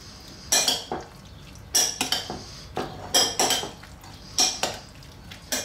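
Papaya and avocado salad gets tossed in a bowl, producing a series of rhythmic bursts of utensil clinks and scraping, about six distinct strokes, close and fairly loud.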